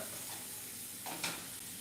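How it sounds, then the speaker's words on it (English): A pork chop sizzles quietly in hot oil, a steady soft crackle and hiss with a brief louder spatter near the end. "Ooh, hear that sizzle?"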